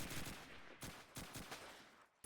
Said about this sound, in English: there are a couple of shots being exchanged